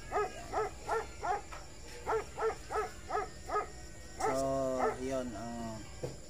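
A dog barks in a quick series of short, evenly spaced yaps, then gives a few higher whining cries.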